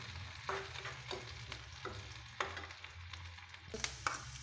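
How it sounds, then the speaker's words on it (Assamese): Chopped green chilies fry in a hot pan with a steady close sizzle, broken by several sharp scraping stirs and a louder burst of spitting oil near the end, with no talk. "এইখিনি ভালদৰে ভাজি ল'লোঁ"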